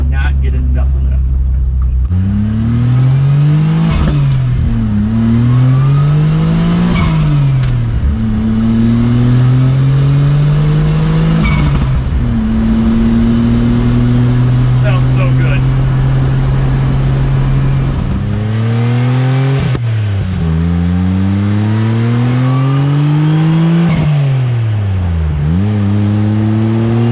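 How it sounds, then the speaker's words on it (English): A modified turbocharged 1994 Suzuki Carry kei pickup engine revs up and down repeatedly through the gears, pitch rising and falling, with turbo whooshes throughout. "those turbo sounds, woo, I cannot get enough of them."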